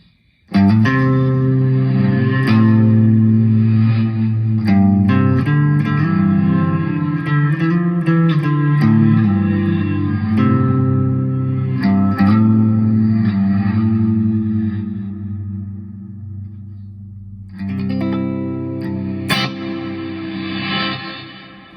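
Electric guitar played through a pedalboard with echo and reverse effects, notes trailing and swelling in wet, reverberant washes, loud and close with no talking, briefly thinning out before swelling back in.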